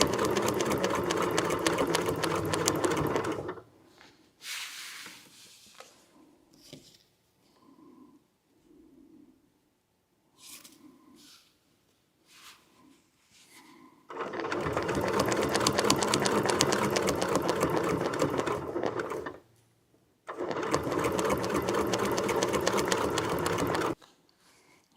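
A sewing machine stitches quilt block pieces in long, loud, steady bursts of whirring needle action, broken by quiet stretches with only faint handling and shuffling of fabric.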